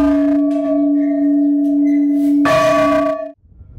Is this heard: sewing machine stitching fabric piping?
no